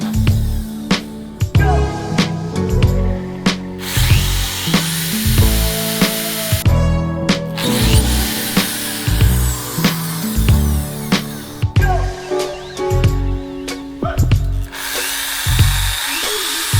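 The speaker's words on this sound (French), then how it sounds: "tu peux commencer à faire des trous afin de pouvoir y insérer tes boulons" A power drill bores bolt holes through a tripod template, with repeated whining bursts of the motor separated by short pauses, loud and close, plus occasional clunks of handling.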